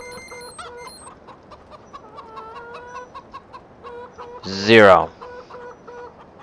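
Chickens cluck repeatedly in the farm video game Farming Simulator 2013, with short rhythmic clucks and chirps throughout and one louder squawk near the end, at moderate volume with no talk over them.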